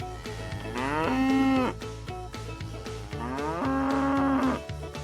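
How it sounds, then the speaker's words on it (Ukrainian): A cow moos twice, each call a long, drawn-out low bellow, with a steady rhythmic pattering beneath it throughout. "Це корівка."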